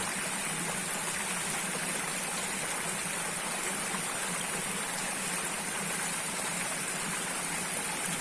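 Steady, unbroken rush of water pouring from a split-bamboo pipe spout on a mountain trail, fairly loud and close with no pauses.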